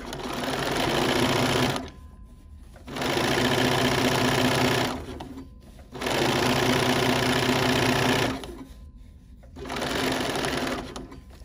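A Bernina sewing machine with a walking foot stitches in four loud, steady bursts of rapid mechanical clatter, separated by short pauses.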